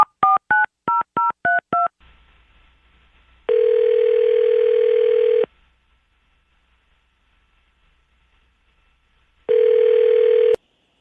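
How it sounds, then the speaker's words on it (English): A run of seven quick touch-tone beeps dials out for a morning radio call-in, followed by a low line hum, then two long, steady dial or ringback tones separated by silence. "now's the time before we start dialing"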